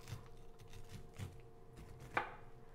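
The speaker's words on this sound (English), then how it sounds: "So I just take my sharp knife and go down" Sharp knife slicing kernels off a corn cob, quiet close-up cuts in a few separate strokes, one crisper scrape standing out near the end.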